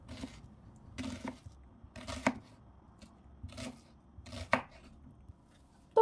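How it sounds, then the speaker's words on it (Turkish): A knife chops two medium onions into cubes on a board for a rib stew. About five evenly spaced, crisp strikes sound close and alone, with short pauses between them. "İki orta boy soğanı da yine küp küp doğruyorum."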